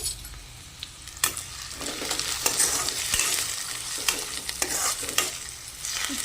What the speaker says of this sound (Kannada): ತೆಗ್ದು ಕಟ್ ಮಾಡಿರುವಂಥ ಟೊಮೆಟೊ ಈರುಳ್ಳಿ ಮೆಣಸನ್ನು ಹಾಕ್ತಾ ಇದ್ದೀನಿ ಲೋ ಫ್ಲೇಮಲ್ಲಿ ಇಟ್ಕೊಳ್ಳಿ